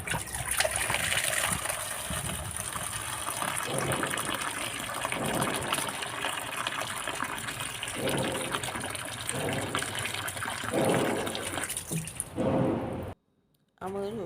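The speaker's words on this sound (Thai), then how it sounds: "เอาไปล้างน้ำกันค่ะ" Curry ingredients are rinsed under running tap water in a kitchen, a steady gush with splashing and dripping close by that cuts out abruptly near the end, with someone speaking in Thai over it.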